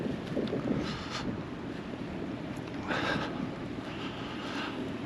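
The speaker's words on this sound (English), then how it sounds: "Just hear a boat. Oh yeah, there it is." A boat's engine drones on the water, a low steady rumble with gusts of wind buffeting the microphone.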